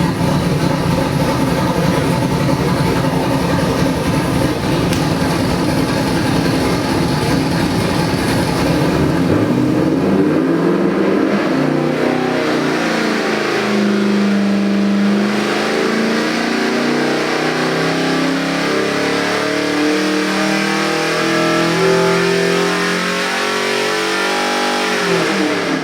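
A car engine fitted with a Holley Sniper 2 EFI runs on a dyno, roaring loud and continuous, rising in pitch as it revs up and then sweeping through changing revs with no talk.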